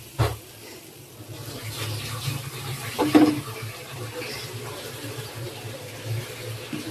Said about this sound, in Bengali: এই যে বাগারটা দিয়ে দিচ্ছি।